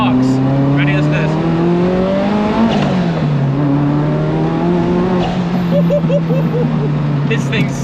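A Ferrari F40 engine revs hard and climbs through the gears, its loud, harmonic-rich drone rising and dipping between shifts. Someone talks over the continuous engine noise.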